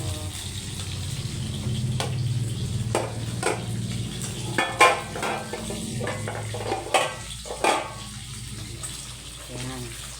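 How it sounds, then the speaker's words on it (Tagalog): Tilapia fries in a pan with a steady sizzle underneath, while utensils clink and scrape against it several times, and a voice speaks briefly in between. "Ayan, nagpiprito na tayo ng tilapia."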